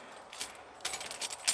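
Car keys for a 2007 Honda Accord jangle in brief metallic bursts, a short rattle followed by a louder cluster of clinks, close and quiet with no speech.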